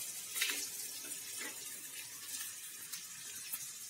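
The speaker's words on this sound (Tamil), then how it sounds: "வெங்காயம் வந்து எண்ணெயிலே நல்லா வதங்கணும்" Onions sauté in hot oil in a pan for a Tamil-style pirandai curry, a steady close sizzle with faint stirring scrapes throughout.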